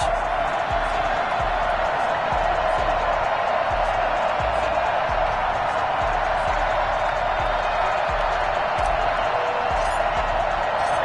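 Steady roar of a stadium crowd in an EA Sports football video game, a Saints versus Falcons matchup, sustained and dense throughout with a low rhythmic thumping underneath.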